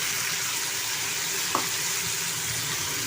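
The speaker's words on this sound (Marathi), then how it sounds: "आणि व्यवस्थित 1-2 मिनटं परतून घेते." Sliced potatoes, brinjal and green peas sautéing in a pan for masala vangi rice, giving a steady, close, even sizzle throughout with one faint clink near the middle.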